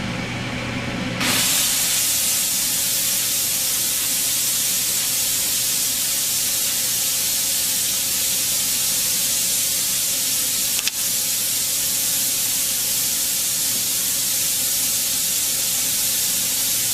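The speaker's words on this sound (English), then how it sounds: "So now I'm ready to release the pressure." Steam bursts loudly from the pressure release valve of a steam sterilizer and keeps hissing steadily and broadband for about fifteen seconds, close and unbroken, with no talk over it.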